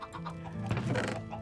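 Chickens cluck in a Minecraft game session: a run of overlapping blocky, nasal clucks and squawks, fairly close and steady, with no voices over them.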